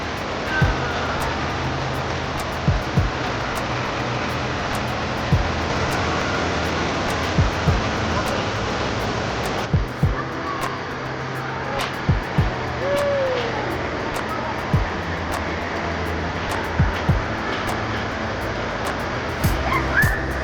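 Indoor water park at Great Wolf Lodge in Gurnee, a steady wash of rushing, falling water fills a loud, echoing hall, with faint voices and scattered sharp knocks and thumps through the din.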